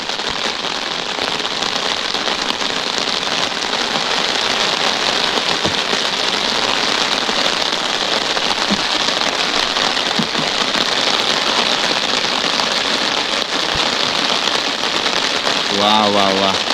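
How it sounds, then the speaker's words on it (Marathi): Heavy rain falls beside a river, a dense, steady hiss of drops hitting surfaces that holds loud and even throughout. "पावसानं अगदी जोरदार दमदार स्वागत केलेलं"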